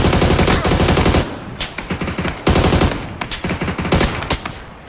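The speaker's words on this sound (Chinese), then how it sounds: "我打他三四枪" Loud bursts of rapid automatic gunfire in a battle royale shooter game, several long volleys separated by brief pauses, close and dominant with no talking.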